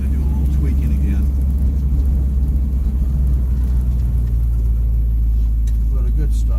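A 1964 Ford Thunderbird on a test drive, its engine rumbling as a steady, loud, close drone throughout, with talk faintly underneath.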